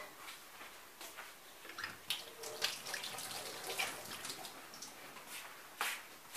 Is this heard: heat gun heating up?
no